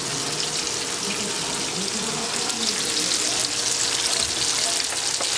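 Butter and garlic sauce sizzling in a pan, a constant dense hiss and crackle heard close up and holding steady the whole time.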